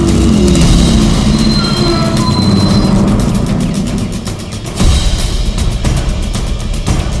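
A bus brakes to a stop with a loud, steady mechanical rumble and hiss, broken by a few sharp knocks and squeals from the brakes.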